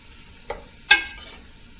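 Chopped onion, bell pepper and garlic fry in bacon grease for a Cajun pastalaya, with a faint steady sizzle broken by two sharp utensil clacks against the pot, the second louder and ringing briefly.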